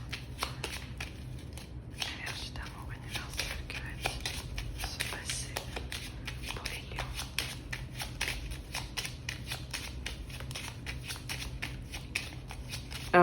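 Cards from a 32-card deck are shuffled for a tarot-style reading, a steady run of fast papery riffles and flicks close up that continues throughout, with occasional soft handling noises.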